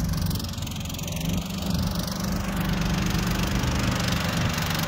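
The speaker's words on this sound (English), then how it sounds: "We're mowing down really low so that we get a good low cut going on." A lawn mower cuts grass very low in a garden, its engine droning steadily and fairly close throughout.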